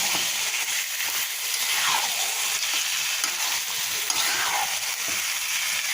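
Chicken browning in oil in a pan for a Bengali chicken curry with tomato sauce, a steady close hiss and crackle of frying that runs the whole time with no voices.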